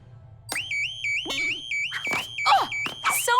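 A warbling electronic alarm blares in a Totally Spies! cartoon scene inside a computer facility, repeating steadily while crashes and whooshing sound effects hit over it.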